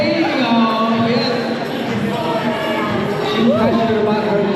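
A crowd at a Harley-Davidson bikini contest in Palm Beach gives a steady round of applause and cheers for a contestant, a continuous dense wash of sound with voices mixed in.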